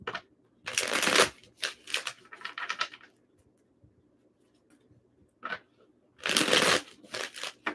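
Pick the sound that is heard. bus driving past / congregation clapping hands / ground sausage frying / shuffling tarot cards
shuffling tarot cards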